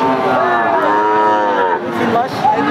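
A three-month-old red female calf gives one long, loud, close moo that wavers slightly in pitch and fills the whole moment.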